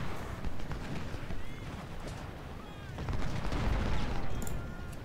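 Cannon fire and musketry from an American Civil War battle at 2nd Bull Run in Ultimate General Civil War rumble in a continuous dense barrage, with repeated booms and crackling volleys swelling toward the end.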